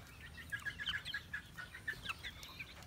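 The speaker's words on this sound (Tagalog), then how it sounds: "daily routine ko lang talaga itong magpakain ng manok" Backyard cockerels and chicks cluck steadily in quick, repeated short calls while being fed, fairly close by with no talking.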